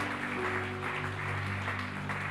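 Congregation applauding at a French-language church session, a steady dense wash of clapping with no gaps, moderately loud, heard alone.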